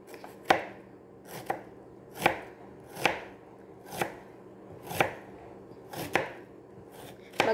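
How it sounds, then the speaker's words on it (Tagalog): Onion being chopped with a knife on a board, about eight evenly spaced crisp thuds, close and clear with nothing else audible. "gagayit naman tayo ng sibuyas"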